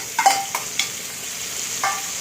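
Dried Bamla fish frying with onions in a pan, a soft continuous sizzle punctuated by several quick scraping stirs of a spatula.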